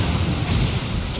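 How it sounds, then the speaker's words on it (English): Heavy rain and rolling thunder from a thunderstorm in the video game Genshin Impact, a dense, loud, steady roar filling the short stretch with no voices. "Lightning storm!"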